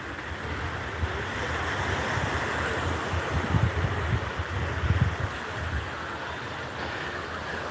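Ocean waves wash steadily onto a crowded beach near Sarasota on a calm, warm day, a constant broad surf hiss with soft low rumbles of breaking water, no clear voices standing out.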